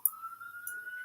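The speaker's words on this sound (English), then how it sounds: "Sirens outside." Sirens wailing outside, a steady tone from an emergency vehicle heard at a distance and fairly faint, lasting through the moment with small bumps of nearby indoor noise.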